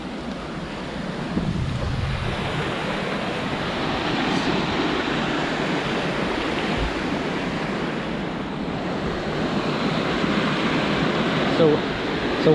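Rushing water roars steadily at the top of a waterfall near a grotto, a loud, unbroken wash of noise with wind buffeting the microphone throughout.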